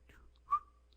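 A single short whistle by a voice imitating cricket chirps, one brief rising-then-falling tone, fairly faint and alone with no talk.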